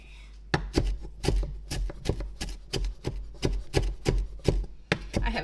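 A kitchen knife chops a tightly rolled ball of cilantro on a cutting board in quick, steady strokes, each chop crisp and close.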